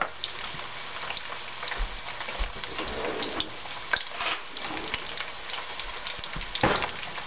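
Sweet potato fries frying in a pan with brown sugar, a steady crackling sizzle with occasional stirring scrapes and pops, close and continuous with no talking.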